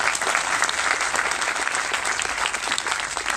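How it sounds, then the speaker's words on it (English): Audience applause at a live talk event as a speaker named Willie comes on stage, a steady dense clapping from a crowd, loud and continuous throughout with no voices over it. "Let's give Willie a big round of applause"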